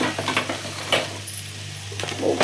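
Spice tempering sizzles in hot oil in a pan with a few sharp clinks and scrapes of stirring, close by and fairly loud, for tomato rasam.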